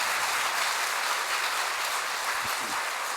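An audience at a church seminar on the Virgin Mary applauds in a steady, even wash of many hands clapping, sustained throughout without a break and moderately loud.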